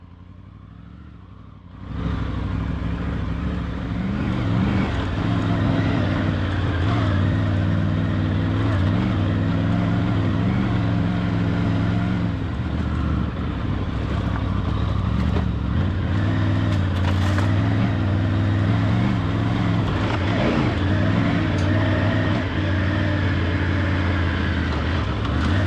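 A Triumph Tiger 900 Rally Pro on Continental TKC 80 tyres rides an off-road trail in the Watagans, its engine a loud, steady drone that swells in after a quieter opening and holds throughout.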